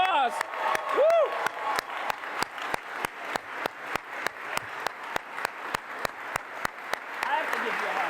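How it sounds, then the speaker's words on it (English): An audience at a Canadian Space Agency astronaut announcement claps steadily and evenly for several seconds, a moderate crowd's applause close and continuous, with a brief whoop near the start. "Jenny, big round of applause."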